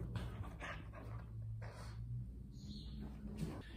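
A two-month-old pitbull puppy whimpers and whines in short, thin bursts, close by and fairly quiet over a low background hum.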